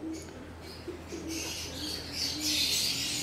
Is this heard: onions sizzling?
no